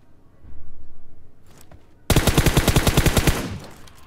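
Gunfire in the mobile game PUBG Mobile: a short muffled burst, then a loud close rapid automatic volley of about a dozen shots in quick even succession.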